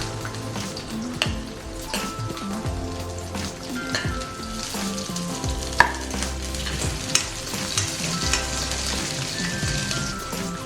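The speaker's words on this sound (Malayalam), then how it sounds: "അതിലോട്ട് ഇഞ്ചി, വെളുത്തുള്ളി, 2 പച്ചമുളകും ഇട്ട് കൊടുക്കാം." Ginger, garlic and two green chillies fry in about two spoons of oil for mutter paneer masala, giving a close, steady crackling sizzle with occasional sharp pops and spatula scrapes, and no voices.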